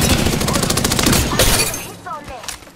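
Rapid bursts of automatic gunfire from Apex Legends, dense and loud for the first half, then thinning into a few scattered shots as a voice talks over the tail.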